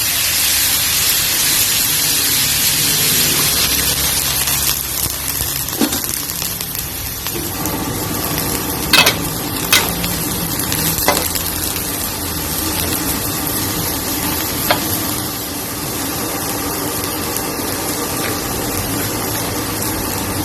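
Pork and mixed vegetables stir-frying in a pan with a splash of water, a constant hissing roar of frying with a few brief clinks from a utensil against the pan throughout.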